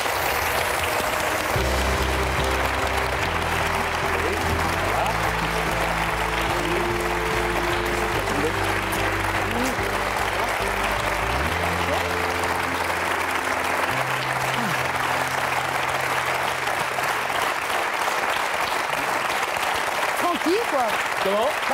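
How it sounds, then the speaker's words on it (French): Sustained studio audience applause on a French television talk show set, steady and loud throughout, with music playing underneath and no clear speech over it. "Merci d'applaudir mon rédacteur en chef"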